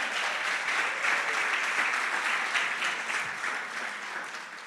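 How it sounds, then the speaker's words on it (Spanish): Congregation applauding during a Spanish-language church sermon on dispensations, a full, sustained roar of clapping that gradually thins and softens toward the end. "Eso se merece un aplauso a Jehová"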